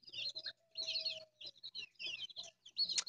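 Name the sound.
ducklings and chicks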